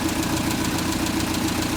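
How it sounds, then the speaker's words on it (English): A Toyota Publica 1000 KP30 from a stock original-owner car runs at a steady idle close up, a dense even mechanical drone with a faint rhythmic ticking and no voices. "the engine runs perfectly, no overheat, the fan are working"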